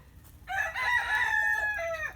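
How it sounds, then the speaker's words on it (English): An Americana rooster gives a single loud, drawn-out crow close by, rising and then trailing off over about a second and a half, with no voices. "These are Americana roosters."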